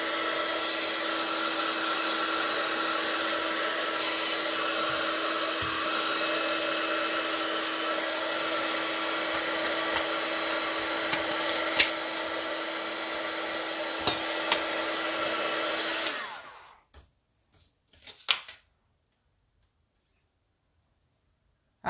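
Heat tool drying watercolour paint on a scrapbooking galaxy background, a loud steady blowing roar close by for about sixteen seconds, then cut off, followed by a few faint clicks and silence.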